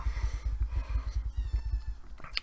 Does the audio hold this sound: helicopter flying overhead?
no